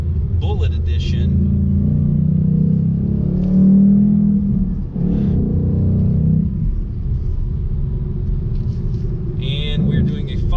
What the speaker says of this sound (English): This is the 475 horsepower Mustang Bullitt edition.